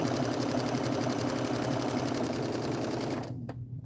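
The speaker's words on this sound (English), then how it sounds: "I'm just stitching away. Lots and lots of straight stitching" A sewing machine runs steadily in straight stitching on a quilt, its fast even whir close and continuous before stopping abruptly near the end.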